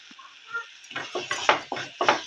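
Cowpea curry masala being stirred in a pan over a low flame, with a run of soft scraping strokes at a steady rhythm that start faint and grow firmer, heard close up with no talk.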